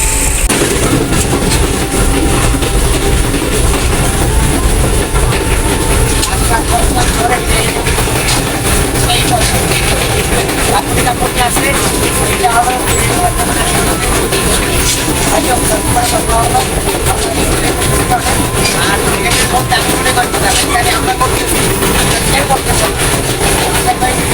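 A train runs on rails with a loud, steady, continuous rumble and clatter that never lets up, as if heard from on board.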